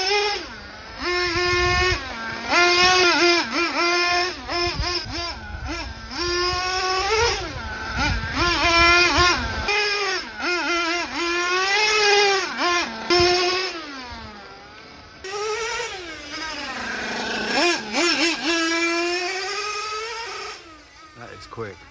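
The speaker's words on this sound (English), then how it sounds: "This engine's getting a little bit better and a little bit better, as you would expect when you're breaking it in." A Hobao Hyper VT RC buggy's small nitro engine being broken in, screaming and revving in rising and falling bursts, loud and close, with a brief drop to near idle midway before it winds up again.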